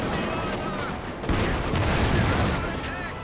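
Machine gun fire in the World War II strategy game Company of Heroes 2 during a tank battle, rapid bursts of gunfire blending with distant booms and battle noise in a continuous loud din.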